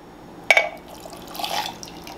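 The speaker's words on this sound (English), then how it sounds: "Pour it over the ice." Coffee poured over ice in a cup: a sharp ice clink is followed by a soft, close trickle of liquid running into the cup, fairly quiet and with no one talking.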